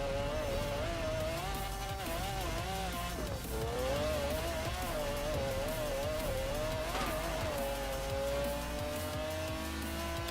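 A McLaren F1 roars in Forza Horizon 4, its engine note holding high and wavering as revs rise and fall through the gears, loud and continuous with tire squeal mixed in and no talk over it.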